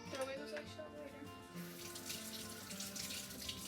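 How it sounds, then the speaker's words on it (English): A kitchen tap runs as hands are washed under it, a steady soft stream of water splashing into a sink, fairly faint, with some background voice under it. "Constantly wash your hands."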